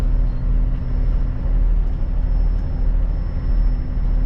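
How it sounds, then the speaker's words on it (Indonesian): Saptco buses idle in a bus garage in Mecca, a loud, steady low diesel rumble with a persistent engine hum that fills the space evenly, with no speech. "Inilah bis Sapko."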